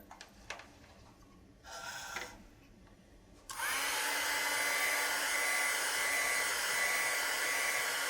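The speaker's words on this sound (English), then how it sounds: "The great way to do that is to use a heat gun." A heat gun switches on after a few faint clicks and rustles, then runs with a steady loud whooshing hum, close by, while drying watercolor paint on a card.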